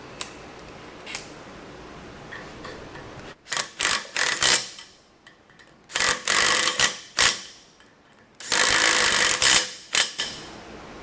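A Mac Tools 1/4 inch bit driver torques bolts down in loud, rattling bursts of about a second each, grouped in three close runs separated by quieter pauses.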